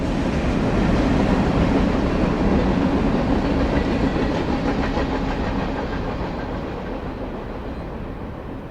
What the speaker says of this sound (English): NS Train 169 heads west.